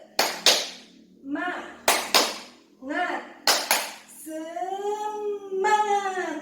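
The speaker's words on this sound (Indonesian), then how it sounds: "kita sudah tepuk semangat" A group performs a rhythmic Indonesian spirit clap, tepuk semangat: sharp clap bursts in short patterned sets, each followed by loud chanted voices, ending in a sustained shouted cheer.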